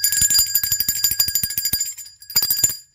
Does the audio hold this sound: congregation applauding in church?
no